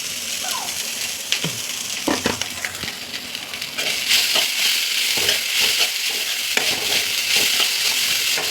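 Cooked rice is stirred into a spiced egg mixture in a hot pan for a homemade egg rice, with steady sizzling broken by scraping spatula strokes and soft clatters.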